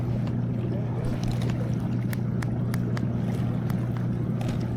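A propeller-driven kayak cruises slowly back toward the ramp on Mark Twain Lake, with a steady low motor hum, water wash and wind noise underneath, and faint clicks over the top.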